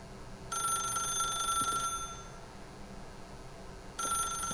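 A telephone rings in the video game The Stanley Parable, two bright electronic ring bursts separated by a short pause, loud and close over a low background hum.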